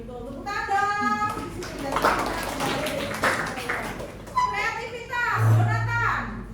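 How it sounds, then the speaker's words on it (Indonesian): A class of children claps hands together in a lesson, short bursts of clapping mixed with overlapping children's voices and chatter in a room. "Tepuk tangan."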